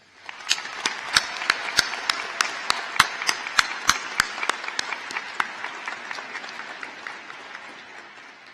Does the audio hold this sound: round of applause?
yes